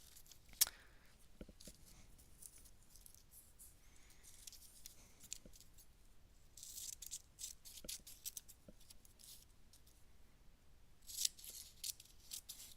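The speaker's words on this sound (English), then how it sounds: "I'm just trimming the little sort of messy edges off." Scissors snip scattered short cuts while trimming the messy edges of magazine cutouts for a collage, quiet close-up clips spaced irregularly over soft paper handling.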